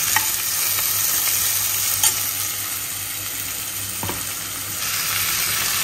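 Vegetables sizzle in oil in a pan for a shortcut biryani, a steady close frying hiss with a few sharp clinks of a stirring spoon; no voices are heard.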